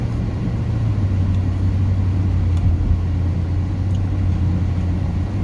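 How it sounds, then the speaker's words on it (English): Road traffic rolls by in a continuous, loud rumble of engines and tire noise with a steady low drone throughout, with no voices. "You can see there's plenty of traffic going on."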